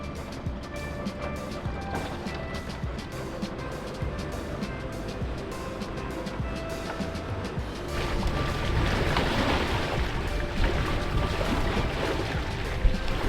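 Sailboat Mahi beating close-hauled in about 13 knots of wind through a one metre swell, with steady rushing water and wind noise throughout that swells louder and more turbulent in the second half.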